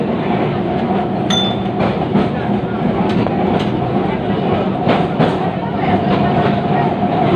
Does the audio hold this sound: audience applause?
no